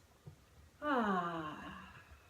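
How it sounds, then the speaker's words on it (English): A slow breath pushed out through the mouth during a guided New Year's meditation, heard as a single drawn-out, softly voiced sigh that starts abruptly and fades gently over about a second and a half. "And exhale out of your mouth"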